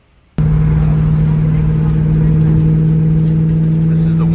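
A 1999-2004 Ford Mustang starts up after a brief quiet moment, its engine settling into a loud, steady hum that carries on close by with no talk over it.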